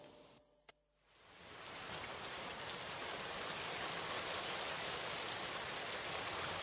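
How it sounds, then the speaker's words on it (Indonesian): Heavy rain pours in a dense, steady hiss that swells in after a brief quiet start with a small tap, then holds loud and unbroken to the end. "Hujan deras turun semalaman."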